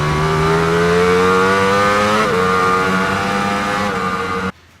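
A Ducati Panigale V4 motorcycle engine holds a loud, close, rising roar with a brief dip midway before climbing again, then cuts off abruptly near the end, with no speech over it.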